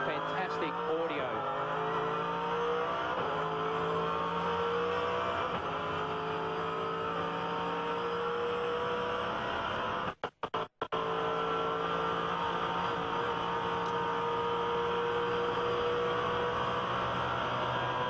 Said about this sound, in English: You can hear the drivetrain, the gearbox, everything just working.